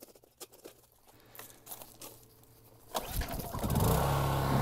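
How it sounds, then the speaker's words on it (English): A brand-new Honda EU2200i generator fitted with a propane conversion kit rattles as it cranks, then catches and settles into a loud, steady running drone. "now I'm gonna actually break in the generator"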